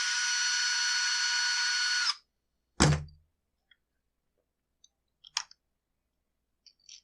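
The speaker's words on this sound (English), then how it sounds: "Finish removing some mounting screws." A power driver whirs steadily for about two seconds while removing mounting screws from a Husqvarna 455 chainsaw, then a single thunk and a few faint scattered clicks follow in a quiet space.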